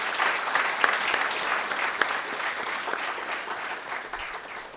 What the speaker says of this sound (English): let's have a big round of applause for the incoming batch.